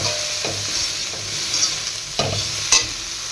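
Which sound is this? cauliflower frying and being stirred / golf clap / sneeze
cauliflower frying and being stirred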